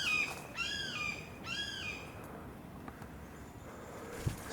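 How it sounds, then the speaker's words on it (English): A hawk calls in a Florida swamp, two or three sharp descending screeches in quick succession near the start, then fading into quiet, hissy outdoor ambience. "It's a hawk."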